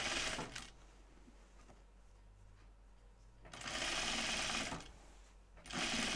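A sewing machine stitches down an apron dress in two loud bursts of steady whirring. Quieter low handling noise fills the gap between the bursts.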